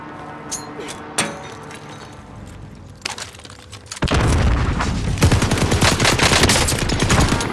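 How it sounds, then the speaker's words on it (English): Gunfire in Call of Duty: Warzone, scattered single shots at first, then sustained rapid automatic bursts, loud and close with a faint voice underneath. "Just keep laying down fire on this position if you can."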